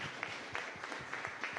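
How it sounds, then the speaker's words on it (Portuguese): Church congregation clapping during a family worship service, a soft, fairly distant wash of applause with faint rhythmic hand claps throughout. "aplauda o Senhor"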